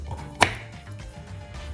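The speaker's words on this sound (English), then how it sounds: "And I'm cutting these" A single sharp knife cut through a thin-skinned delicata squash on a cutting board, one crisp chop standing out over faint room background.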